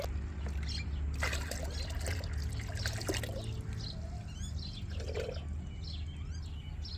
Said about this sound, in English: strain the liquid fertilizer to remove any solid particles, leaving a smooth, nutrient-rich solution ready for use